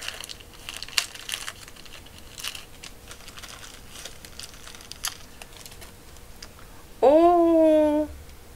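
A small plastic sachet from an advent calendar is handled and torn open, with soft crinkles and scattered crisp rustles, then a voice gives a short exclamation near the end.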